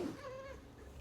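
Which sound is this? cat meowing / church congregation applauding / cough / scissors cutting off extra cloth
cat meowing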